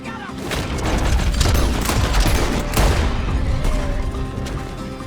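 Dense, continuous gunfire from a shootout in the video game Red Dead Redemption 2, loud and close with overlapping shots and booms filling the whole stretch.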